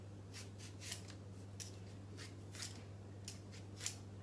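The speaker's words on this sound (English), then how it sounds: "You never peel towards you, because the part here is a blade, and you do not want that blade to come towards you." Rough scraping strokes of a peeler taking skin off a tough potato, a series of short rasping bursts close by, spaced irregularly over a steady low electrical hum.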